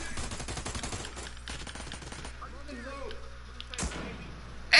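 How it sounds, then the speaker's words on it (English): Rapid video-game gunfire crackles in bursts at the start and again with a sharp shot near the end, mixed with someone talking over it. "who the fuck's shooting at me?"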